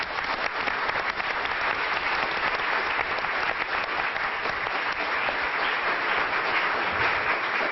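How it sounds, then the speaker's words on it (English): Sustained applause from an audience at a 1992 Law Day celebration before a court bench, thick and even clapping throughout, loud and unbroken with no talk over it. "we all applaud you"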